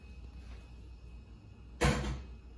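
A pan of hot water goes into a home oven while bread dough is set to proof, marked by one loud, close metallic scrape and clunk after a quiet moment.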